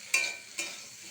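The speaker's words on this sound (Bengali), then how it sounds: "এইভাবে মিশিয়ে নিচ্ছি।" Sunrise spice masala is stirred through a fish roe mixture in a pan: two quick scraping strokes over a soft sizzling hiss, close and brief.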